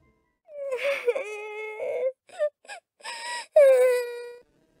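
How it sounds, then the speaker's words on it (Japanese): A voice wailing and sobbing in Sakura School Simulator, drawn-out moaning cries broken by short gasping pauses, close and fairly loud with nothing else underneath. "ある女の子の泣き声が聞こえてきた"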